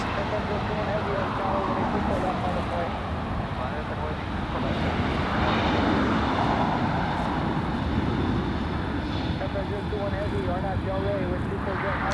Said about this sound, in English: 777 that is heading right now to the north runway